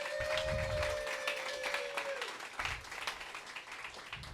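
An audience at a community discussion gives a modest round of applause, clapping that is quiet and distant and fades a little toward the end, with a brief tone and low voices underneath.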